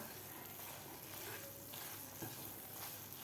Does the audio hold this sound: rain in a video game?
no